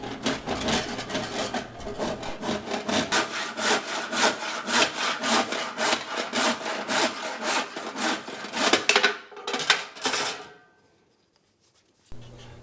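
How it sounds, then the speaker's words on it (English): A hand saw cuts through a timber block for a phone holder in a fast, even rhythm of close rasping strokes, roughly twenty in a row, which slow and stop before a brief silence. "The sawing takes around 2 to 3 minutes"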